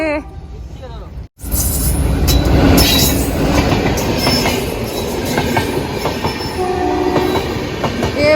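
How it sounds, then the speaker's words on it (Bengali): A train from Bangladesh rolls loudly past an India–Bangladesh border crossing, a dense, continuous rumble of wheels and carriages after a brief opening gap, with voices faintly audible nearby. "আর ট্রেন আসছে বাংলাদেশ থেকে"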